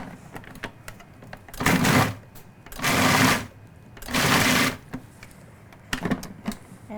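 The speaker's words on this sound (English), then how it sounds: "we're going to go ahead and add these right into our food processor. And we can go ahead and just give this a few good pulses" Food processor pulsing shrimp, three loud whirring bursts about a second each with short gaps between them, close up, plus small clicks and handling noises around them.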